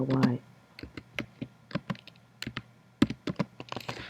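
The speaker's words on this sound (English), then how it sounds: "I'm literally typing in the letter N and it's doing that" Someone types on a computer keyboard in irregular bursts of sharp, close clicks, with brief pauses between the keystroke clusters.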